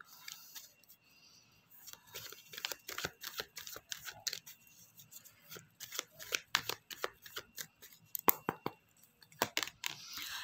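Tarot cards shuffled and drawn by hand, a quiet close flurry of papery riffles and flicks in uneven bursts, growing busier toward the end.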